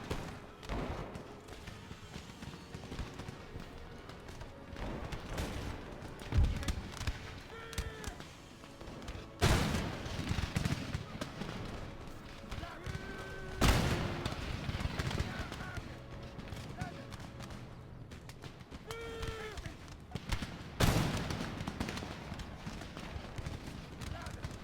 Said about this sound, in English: We're going to have these units firing away.